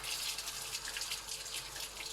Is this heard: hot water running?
yes